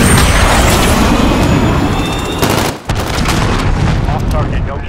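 Missile launch and explosion in Call of Duty, a dense roaring barrage of booms and blasts filling the whole span, loud and close, with a brief dip before the rumble resumes; voices speak over it.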